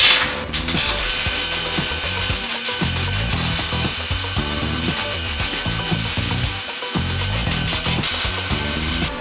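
A ratcheting strap is cinched tight, giving a close, continuous run of rapid mechanical clicks mixed with rubbing and scraping, steady and fairly loud throughout.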